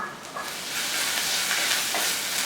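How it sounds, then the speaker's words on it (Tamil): Onions sizzling in hot oil in a pan, half-fried for a green-bean stir-fry, with a steady, close, dense crackle and hiss that swells slightly and holds throughout. "வெங்காயம் ஒரு பாதி அளவுக்கு மட்டும் வறுபடட்டும்."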